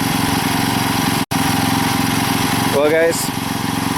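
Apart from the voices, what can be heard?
old small engine running after carburetor cleaning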